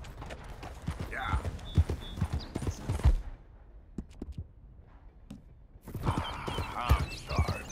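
Horse hooves clip-clop at an irregular pace as a rider travels in Red Dead Redemption 2, close and distinct, pausing briefly mid-way before resuming; a voice murmurs faintly at times.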